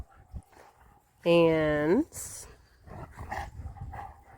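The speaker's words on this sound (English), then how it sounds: "So the dogs are actually playing right here." Dogs at play let out one loud, drawn-out whining yelp that rises in pitch, close by, with people talking quietly before and after it.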